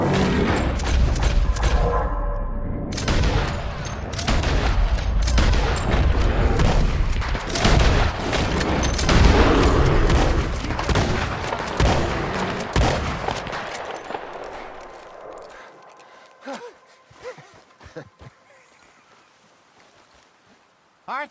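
Rapid, dense gunfire from Red Dead Redemption 2 blazes almost continuously in a loud, layered volley, with booming shots and shouted voices, then thins to a few scattered sounds as the fight dies down.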